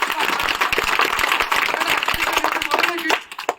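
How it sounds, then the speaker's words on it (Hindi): A small group claps in a burst of applause, close by, with voices talking over and around the clapping. "तालियां बड़को सर के लिए।"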